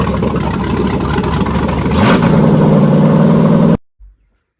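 A cammed 4.8 LS V8 swapped into a Chevy Blazer runs loud and close, holding a rough, choppy idle before revving up once and then cutting off abruptly.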